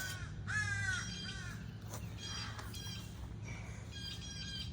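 Crows caw harshly several times in a front yard, some nearer and some farther off, over a low background rumble with no speech.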